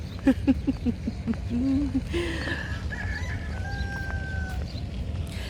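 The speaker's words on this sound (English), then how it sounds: "Hear the cock?" A rooster crows in the distance, with hens clucking nearby and other birds chirping in the background.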